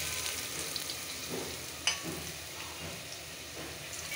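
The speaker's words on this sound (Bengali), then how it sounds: "এখন এটার ভিতরে তেলটা ঢেলে দিব আর একটু পেঁয়াজ দিয়ে দেবো" Oil and onion sizzling in a pan on a home stove, a steady close frying hiss throughout with a brief clatter near the middle and no talking.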